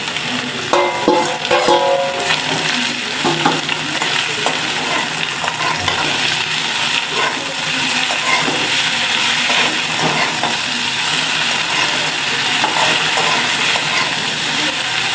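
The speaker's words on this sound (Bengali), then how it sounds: "রসুনটা হয়ে গেছে আমি এখন এই যে শাকটা দিয়ে দিতেছি" Jute leaves fry with garlic in a pan while being stirred, a steady sizzle under repeated scraping and clinking utensil strokes, close and fairly loud throughout.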